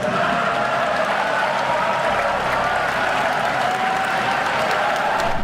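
Crowd applause with faint cheering at a State of the Nation address, continuous loud clapping throughout.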